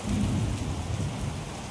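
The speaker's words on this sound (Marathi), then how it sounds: "आमच्याकडं केवढा मोठा पाऊस यायला लागलाय हे बघा. आणि विजा कडकडायला लागलेत." Heavy rain pouring steadily with low thunder rumbling through, a dense, continuous roar close by during a midday thunderstorm with lightning.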